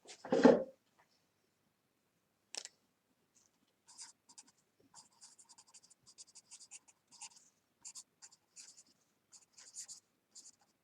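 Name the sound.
writing on paper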